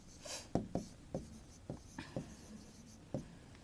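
Pen or pencil writing on paper, close and faint, with a string of short scratchy strokes and taps at irregular intervals in a quiet room, no talking over it.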